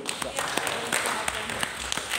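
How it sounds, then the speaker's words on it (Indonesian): Thin, half-hearted applause from a seated audience at a closing ceremony for a teacher training event, scattered claps in a loose rhythm mixed with a speaker's amplified voice. "Tepuk tangannya lemas sekali."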